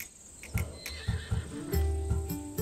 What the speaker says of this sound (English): a true warrior's horse.